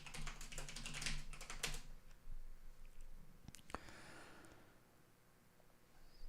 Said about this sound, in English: I have a very clicky keyboard.